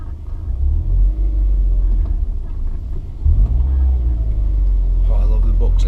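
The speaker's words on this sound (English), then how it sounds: "Oh, I love the boxer engine." A 2006 Subaru Impreza R Sport's boxer engine running while driving, heard from inside as a steady low rumble that swells briefly partway through, with a person talking over it.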